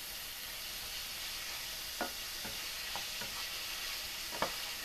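Sirloin beef tips browning in a pan give a steady broadband sizzle, with a few brief scrapes or stirs standing out over the frying hiss.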